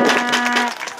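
Brief burst of applause from spectators welcoming the Rēzekne team players onto the court, scattered clapping alongside a sustained tonal hum, fading within about a second.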